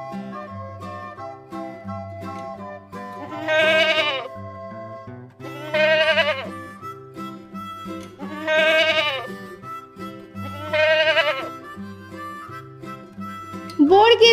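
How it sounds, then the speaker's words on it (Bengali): A young goat bleats four times at an even pace, each cry wavering and nasal, clear and close over light background music. "ছ ছয়ে ছাগল ছানা লাফিয়ে চলে।"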